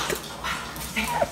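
A small, restless pet dog indoors gives a few brief, soft yips and whimpery barks, short and fairly faint, scattered over a moment with no one talking.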